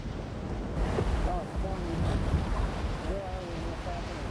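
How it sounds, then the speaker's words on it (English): Strong wind and choppy open-ocean waves rush around a Whitbread round-the-world racing yacht sailing out from Fremantle, a loud, steady roar of gusts and breaking water with faint whistling tones from the rigging. "they found the going tough in strong winds and choppy waves"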